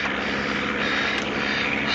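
A propeller airplane's engine drones steadily in flight, a constant loud hum filling the cabin with no voices.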